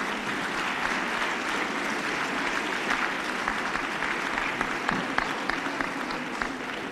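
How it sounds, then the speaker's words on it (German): An audience applauds at a dressage pas de deux event in Alsfeld, a dense, steady clapping that carries on evenly throughout, fairly loud and close. "auch das nochmal einen kräftigen Beifall"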